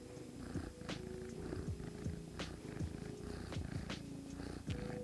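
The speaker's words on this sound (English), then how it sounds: "one of the kittens has come in" A kitten purring up close: a soft, continuous, rhythmic rumble that pulses with each breath, steady throughout with no talking.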